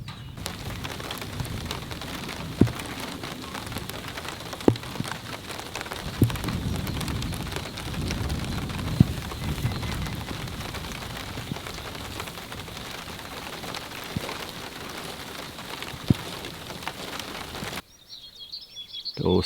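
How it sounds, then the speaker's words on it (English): Steady rain falls on a farm field after dark clouds pass, a dense outdoor patter heard close and continuous. Occasional sharper drips stand out, and the sound cuts off abruptly near the end. "Those dark clouds left us with some rain."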